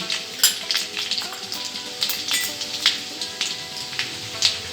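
Mustard seeds and cumin spluttering in garlic oil for a cluster bean stir-fry, giving a steady sizzle broken by rapid, sharp popping crackles near the pan.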